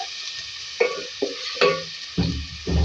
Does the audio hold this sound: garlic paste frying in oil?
yes